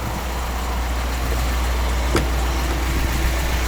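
A 2021 Chevrolet Silverado 6500HD truck engine idling, a steady low rumble with faint cabin noise and a brief click partway through.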